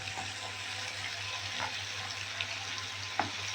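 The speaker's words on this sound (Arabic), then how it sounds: "نفضل نقلب بقى في الشاورما" Syrian shawarma sizzles steadily in a pan, a constant close frying hiss with a few soft clicks and scrapes of stirring breaking through.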